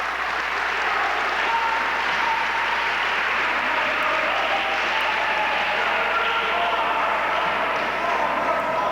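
A wrestling crowd cheers and applauds for Homicide during a 2004 match against Samoa Joe, a loud, steady roar of clapping and shouting with no break.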